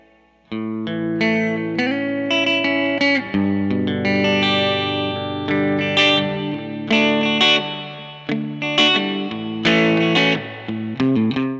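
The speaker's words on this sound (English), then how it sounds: "Listen to how the notes naturally decay with the reverb." An electric guitar plays a run of chords and notes through a Vibrolux Reverb tube amp with reverb, no delay or modulation, notes ringing out and decaying, no talking.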